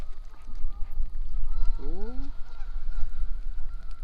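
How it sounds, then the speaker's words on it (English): Geese on a lake bank honk loudly nearby, a sharp burst of several calls over steady outdoor noise, with a brief exclamation from a person at the start. "those geese are upset."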